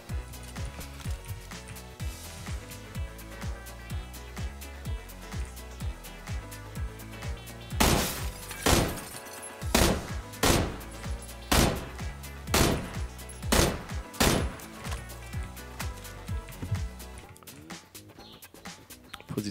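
Gunfire in the battle royale game PUBG as the player gets shot: a burst of sharp, loud cracks in quick irregular succession through the middle, after quieter in-game sounds.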